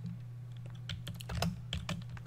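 Keys clatter on a computer keyboard in a quick, uneven burst of close clicks over a low steady hum.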